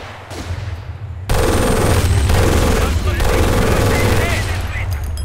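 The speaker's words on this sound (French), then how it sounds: "Et le bruit, franchement, le bruit de l'MG42, vous en pensez quoi, vous?" German MG42 machine gun firing in the World War II strategy game Company of Heroes: a dense, rapid burst of gunfire amid the battle din, loud and continuous, with layered game sounds and voices underneath.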